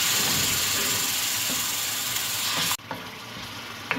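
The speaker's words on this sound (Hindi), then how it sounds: "मसाले को अच्छी तरह से भून लूँगी मैं" Spice masala with tomatoes fries in a pan, giving a dense sizzling hiss that cuts out abruptly near the end, followed by faint clinks.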